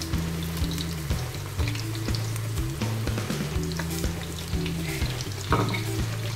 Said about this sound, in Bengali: ঠিক মিডিয়াম সাইজের করে ঠিক এইভাবে করে গোল করে ভেজে নিতে হবে।